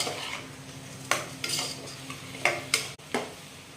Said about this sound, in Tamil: நான் நல்லா மிக்ஸ் பண்ணி விட்டுக்கலாம் மசாலாவோட.